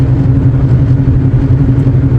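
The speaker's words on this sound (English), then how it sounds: "Talking loud because this truck's loud as fuck. 95 Tacoma." A loud, steady engine rumble from a 1995 Toyota Tacoma pickup truck running, a continuous low drone with an even tone that holds throughout with no voices.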